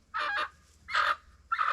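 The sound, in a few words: chickens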